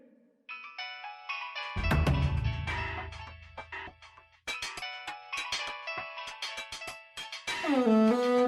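A mobile phone ringtone plays a bright electronic melody, loud and repeating for several seconds, during a stage drama at a Pullampara grama panchayat women's junction event, with low crowd rumble beneath.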